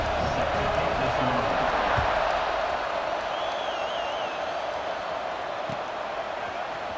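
Stadium crowd in the EA Sports College Football 26 video game, a steady, dense roar of cheering fans filling the whole stretch at constant loudness, with a faint whistle-like tone rising briefly midway.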